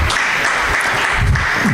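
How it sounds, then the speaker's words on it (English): Audience at a Tuesday-night tech meetup applauding newcomers, a dense steady wash of many hands clapping at close range, continuous and loud throughout. "Give yourself a round of applause."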